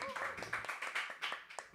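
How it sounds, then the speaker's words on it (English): Live audience clapping in bursts, several sharp overlapping claps spread through a short stretch, fairly close, with a voice talking over them. "It's nice to do a live stream with people that clap"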